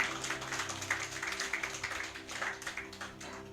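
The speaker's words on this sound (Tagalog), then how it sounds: "Pinakamalakas mong palakpak sa Panginoon." A church congregation claps for the Lord in steady, moderately loud applause that continues throughout, spread through the hall with a faint hum underneath.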